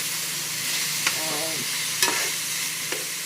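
Food fries in a pan with a steady, close sizzle and hiss, broken by a few light stirring scrapes and taps, with no voices.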